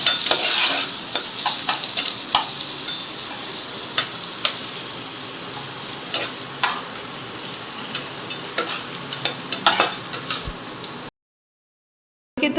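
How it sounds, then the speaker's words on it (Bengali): Bitter gourd pieces fry in a pan with a constant bright sizzle, broken by frequent scraping and tapping from stirring, before the sound cuts out abruptly near the end. "করলাগুলো ভেজে নিচ্ছি।"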